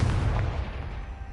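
Confringo blasting spell in Hogwarts Legacy, a single loud booming explosion that hits at once and rumbles away over about a second.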